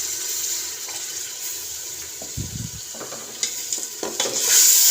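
Daal mash with four whole chilies sizzles in a pan as a little water is poured in and stirred, giving a close hiss and clatter of stirring with short louder bursts and no talking.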